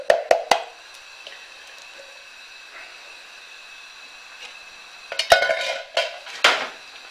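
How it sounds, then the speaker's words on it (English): Food stirred in a pot, with sharp metallic clinks and scrapes in short bursts at the start and end, close and quiet, separated by a low hiss, no talk. "Now stir this a little bit around."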